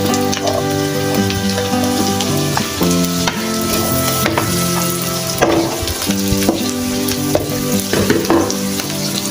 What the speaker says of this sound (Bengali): পেঁয়াজ লাল হওয়ার আগে দিয়ে দেবো গাজর